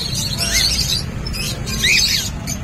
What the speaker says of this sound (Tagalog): Ito, daming kakatel si Boss Marvin, oh.